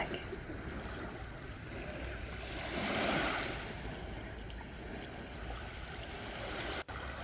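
Steady wash of ocean surf with a gentle swell rising and fading midway, heard alone without voices.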